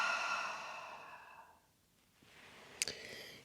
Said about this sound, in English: Take one more full breath in and a full breath out.